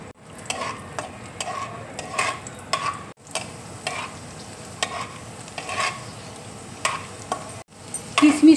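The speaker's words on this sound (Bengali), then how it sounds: "এবার দেখো কিশমিশটা আমি দিয়ে দিচ্ছি" Raisins fry in ghee with a spoon stirring in a steady rhythm, light scrapes and taps on the pan sitting over a gentle, close sizzle.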